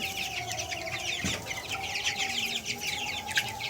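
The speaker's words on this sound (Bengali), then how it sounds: "এগুলো আমার খামারের কয়লার মুরগি" Koyla breed chickens cluck and chatter on a farm, many birds calling close by in overlapping bursts over a steady background hum.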